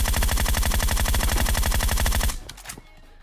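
Rapid, loud gunfire from an AWM sniper rifle in the mobile game PUBG Mobile, with shots closely spaced for about two seconds. The shooting stops abruptly and a few fainter trailing clicks follow.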